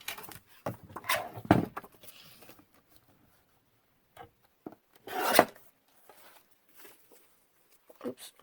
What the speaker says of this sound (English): Let's just trim this and see what it's going to look like in there.